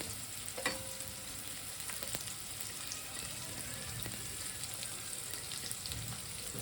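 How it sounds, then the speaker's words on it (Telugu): Onion added to hot oil for brinjal curry, giving a faint, steady sizzle with a few brief clinks and knocks from the pan, no talking. "ఇప్పుడు ఏం చేయబోతున్నానంటే ఉల్లిపాయ వేస్తున్నాను"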